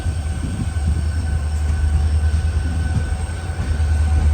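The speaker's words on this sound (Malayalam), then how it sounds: "മധുരൈ ജംഗ്ഷൻ റെയിൽവേ സ്റ്റേഷനിൽ കറക്റ്റ് പതിനൊന്ന് ഇരുപത്തഞ്ചിന് തന്നെ നമ്മുടെ ട്രെയിൻ എടുത്തിരിക്കുകയാണ്" A steady, heavy rumble of a Madurai to Punalur Express sleeper train rolling along the rails after leaving Madurai Junction, with constant low roar and faint high hiss, no voices.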